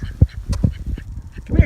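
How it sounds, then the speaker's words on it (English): Two backyard ducks kept alongside a flock of chickens quack in short, raspy bursts at close range, irregular and choppy. "The 2 ducks."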